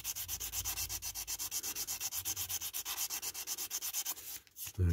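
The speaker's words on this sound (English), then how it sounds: "This is the sanding method." Rhythmic sanding on a small diecast model's metal surface, quick back-and-forth rubbing strokes repeating steadily, close up, followed by a brief clunk at the end.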